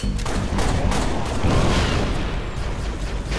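Heavy gunfire in the Halo: Reach New Alexandria mission, a dense continuous barrage of shots and booms with rapid bursts layered over one another, loud and unbroken throughout.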